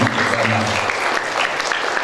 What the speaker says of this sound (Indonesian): Tepuk tangan untuk semua yang ada di sini.